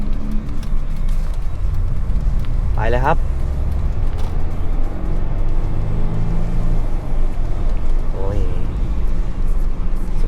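Diesel Mercedes-Benz E220 CDI W211 from 2005 with a turbo, a steady low engine rumble heard from inside the cabin as it accelerates, with someone talking over it and brief tonal sweeps.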